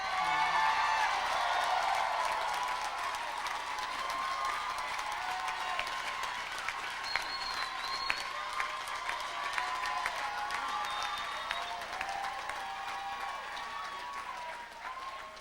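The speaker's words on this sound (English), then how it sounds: "Let's give a round of applause to all our MPA graduates." Steady applause and some cheering from a commencement-ceremony crowd honoring MPA graduates, a broad wash of clapping that holds for the full length with scattered sharper claps, moderately distant.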